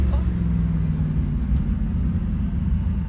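Steady low engine rumble and road drone from a 1965 Ford Mustang, the original model, cruising along streets in Sydney, heard from inside the car as a continuous, even hum.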